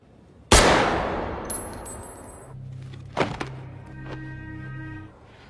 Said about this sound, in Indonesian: Zurab tanpa mengatakan sepatah kata pun dia langsung menembak si anak buah.